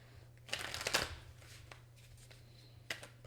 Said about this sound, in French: Je vais juste prendre une carte ici.